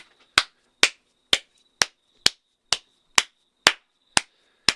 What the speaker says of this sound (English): That is the sound of 2 hands clapping for me.